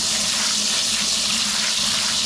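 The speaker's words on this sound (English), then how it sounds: "fill it up with water" Steady gushing of tap water pouring into a bucket, a continuous hissing rush with no pauses, fairly loud and close.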